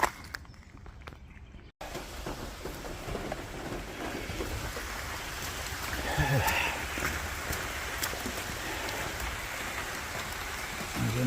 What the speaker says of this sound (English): I didn't know it was raining down there.